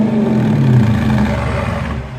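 A 2018 Jeep Grand Cherokee Trailhawk with a Corsa exhaust and cold air intake revs loudly and steadily close by, a deep throaty drone that swells briefly and then eases off slightly, with no talking.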